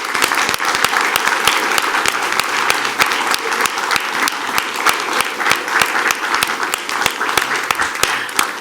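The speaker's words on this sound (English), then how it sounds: "let's give them a big round of applause" A large crowd applauding steadily at a school board meeting, dense clapping that stays loud and even throughout.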